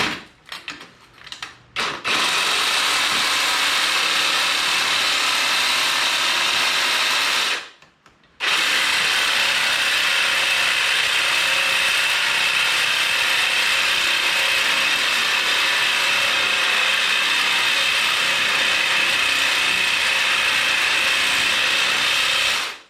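A Sawzall reciprocating saw runs at length while trying to cut metal, a loud, sustained buzzing grind. It starts with a few short bursts, stops briefly, then restarts and runs continuously.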